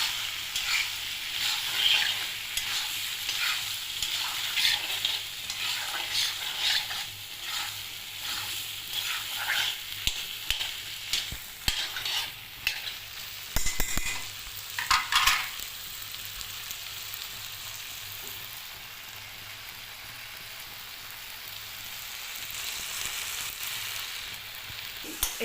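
Spice masala stir-fried in a pan for a vegetarian ghugni, a long stretch of steady sizzling with frequent stirring scrapes and clinks, louder early and settling to a quieter hiss toward the end.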